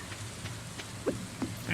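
Light rain patters in the farming game Stardew Valley, a soft, steady wash of drops with a few brighter taps scattered through it, alone without talk.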